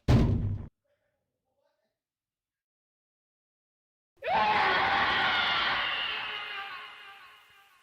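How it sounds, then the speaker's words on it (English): A Chris Hansen scream sound effect erupts loud and sustained after a brief burst and a few seconds of silence, then slowly fades out. "I just want people to hear the Hanson scream."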